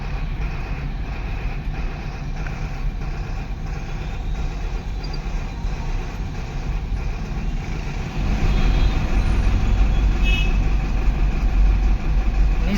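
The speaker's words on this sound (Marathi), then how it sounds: "पुढं रवी फुल आम्ही फुल फुल ट्रॅफिक जाम झाली." Heavy traffic is jammed on a road in Pune, with trucks and cars producing a continuous low engine rumble and drone that grows louder partway through. No one speaks.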